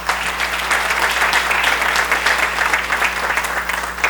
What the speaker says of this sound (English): I want to have a round of applause again for red light table.